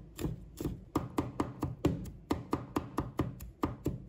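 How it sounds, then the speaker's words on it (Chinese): A kitchen knife chops crushed garlic and fresh ginger on a cutting board, producing a steady run of a dozen or so crisp, close taps in quick, even rhythm. "把生姜拍扁，再把它们切成姜蒜末。"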